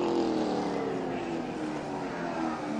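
Race cars circle a track in the Freedom 75, engines droning steadily as the leader works through lapped traffic, a continuous loud roar with no clear voices over it.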